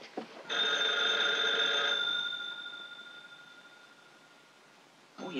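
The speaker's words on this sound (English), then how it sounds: "Your phone's ringing. It's ringing there." An old-fashioned telephone bell rings in a 1943 film, one sustained metallic ring that cuts off and then fades into a quiet room before a second ring starts.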